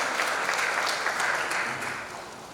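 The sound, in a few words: audience applause for parents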